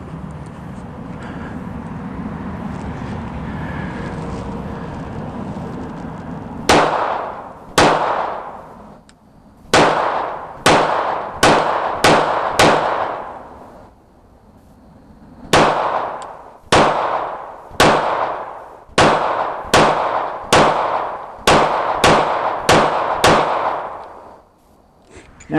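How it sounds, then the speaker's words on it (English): Gunshots from a Sig Sauer P320 RX pistol at a firing range, two slow strings then quicker bursts: about a dozen sharp, loud reports in two groups, each ringing briefly, with steady background noise between. "I'm gonna fire a few shots, kind of slow, just to see if I can hit worth anything with it, and then I'm gonna fire some kind of fast"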